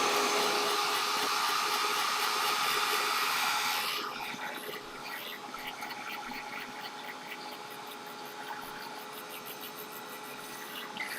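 Hair dryer blowing steadily on paint, a loud constant whoosh that drops to a lower, softer hum partway through and keeps running to the end.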